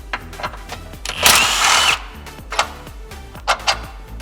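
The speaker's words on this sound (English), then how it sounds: "You can use a 17mm socket on a 1/2" impact if you have it." A close power impact wrench with a 17mm socket whirs in a short, harsh burst of about a second loosening a rear motor mount bolt on a 2016+ Honda Civic, with scattered clicks and metallic clanks around it.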